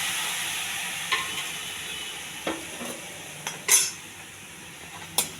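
A spoon stirs tomato and tamarind dry-roasting in a pan without oil, faint sizzling under a few sharp scraping clinks of utensil on metal.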